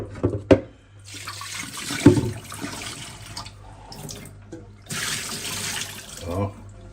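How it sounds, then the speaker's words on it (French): Tap water runs over cabbage being rinsed in a sink, coming in splashing bursts between short pauses, with a few sharp knocks and clatters close by. "Mettez de l'eau. Rince un petit coup."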